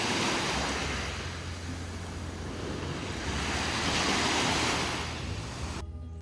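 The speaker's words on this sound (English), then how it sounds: "We continued along the coast and walked to Mazzaro Beach." Waves wash steadily onto a pebble beach at Mazzaro Beach in Sicily, a loud continuous surf roar with gentle swells, wind buffeting the microphone, and an abrupt cut near the end.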